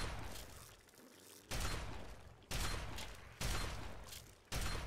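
Combat shotgun fired in a post-apocalyptic wasteland video game, four loud, sharp blasts spaced about a second apart, each decaying into a rumbling tail.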